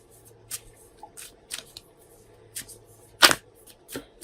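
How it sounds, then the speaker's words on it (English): Quiet, intermittent riffles and flicks of tarot cards being shuffled, a handful of short bursts with one sharper snap, no talking. "Let me shuffle these cards"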